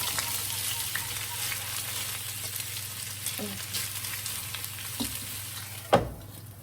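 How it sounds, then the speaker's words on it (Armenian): Food sizzles in a pan on a gas stove, a steady close frying hiss with a few soft stirring taps and one sharper clatter near the end. "Թողանք տապակվի։"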